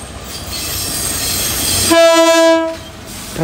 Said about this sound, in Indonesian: Kereta Putri Deli U65 akan masuk di jalur 1 stasiun Bandar Tinggi